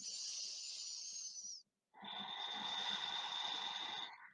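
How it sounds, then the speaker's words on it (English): Two deep yoga breaths, each a long airy hiss through the nose or mouth lasting well over a second, close and quiet, separated by a brief silent pause. "Two more breaths."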